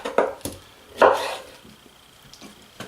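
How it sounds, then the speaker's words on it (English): A knife chops garden tomatoes into small chunks on a cutting board for homemade pasta sauce, giving a few sharp, separate cuts close by with quiet gaps between. "I cut them into small chunks like this so I can see what the insides look like"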